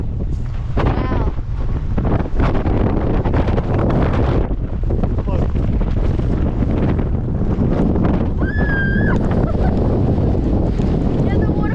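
Strong, cold wind buffets the microphone on the Scottish coast near Kilt Rock, a continuous loud low rumble with gusts, while people speak and shout over it.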